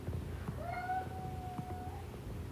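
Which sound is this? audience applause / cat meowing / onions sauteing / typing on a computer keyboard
cat meowing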